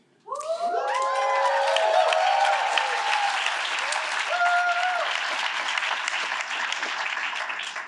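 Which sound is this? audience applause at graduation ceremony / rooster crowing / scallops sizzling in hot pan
audience applause at graduation ceremony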